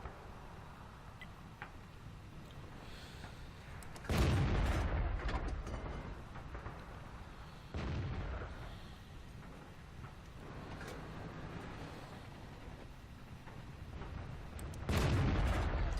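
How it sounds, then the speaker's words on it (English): Tank cannon shots boom out in World of Tanks on the Siegfried Line map, with three heavy blasts spread over a steady low rumble of engine and battlefield ambience. "Just taking blind shots right now."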